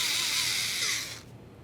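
A power tool whirs steadily, loosening the 8mm mounting bolts that hold the window motor to the rear left window regulator of a 2015-2020 Ford F-150, then spins down and stops after about a second.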